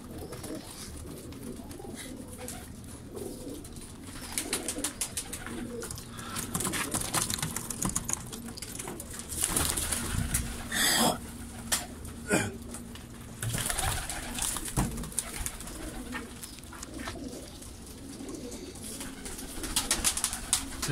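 Pigeons coo softly and repeatedly, mixed with fluttering wings and scattered clicks and taps, the flock sounding close and busy throughout.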